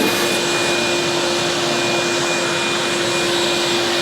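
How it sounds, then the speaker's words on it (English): A vacuum cleaner runs steadily and loudly the whole time, cleaning wood dust off a cutting board, a constant roaring whoosh with a high whine and no voices. "turn the vacuum off"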